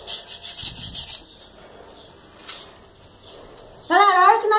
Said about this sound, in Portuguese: a hora que nós lixar bem lixadinho, eu volto com vocês